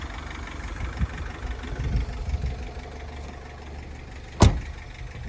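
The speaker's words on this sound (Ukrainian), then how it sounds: "така робота мотора. Ну реально відмінно працює там." A 2014 Renault Trafic passenger van with a 2.0 engine of 115 hp idles in a steady, quiet low rumble, with a few soft bumps and one sharp knock near the end.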